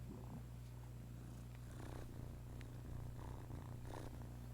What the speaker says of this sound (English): I don't know if you can hear her purring, but she's going nuts.